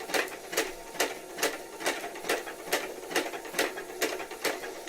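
An Uten 2685a sewing machine runs with the pedal pressed fully down, a loud, close, steady rhythmic clatter of needle strokes repeating about twice a second with no voices.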